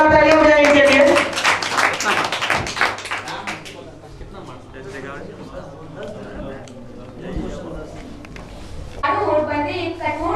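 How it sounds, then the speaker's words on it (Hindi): Children at a quiz give scattered, uneven clapping for a correct answer, starting over loud voices, dropping to lighter claps amid chatter, then swelling with voices again near the end. "जोरदार तालियां बजाइए इनके लिए।"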